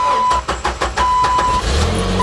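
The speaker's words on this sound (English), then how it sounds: "Let's start the car. It's a very different noise that most of the vehicles make." A Jeep Wrangler with a manual clutch cranks over in several quick rhythmic pulses, then its engine catches into a loud, steady idle right up close.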